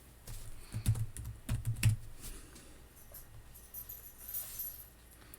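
Typing on a computer keyboard while entering text into an Excel spreadsheet: a quick burst of close key clicks and taps in the first two seconds, then quieter scattered keystrokes.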